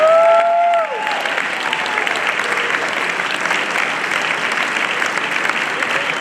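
A crowd at a state championship ceremony gives the coaches a round of applause, a dense, steady wash of clapping that follows a brief voice at the start.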